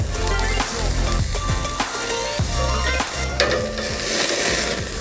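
Steak sears loudly on a hot grill after being flipped, a close, steady sizzle broken by repeated clanks and scrapes of tongs and metal against the pan.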